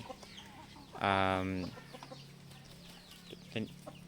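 A hen among fighting-breed chickens on a farm gives one loud, drawn-out clucking call lasting about half a second, followed later by a brief, quieter cluck over a steady background hum.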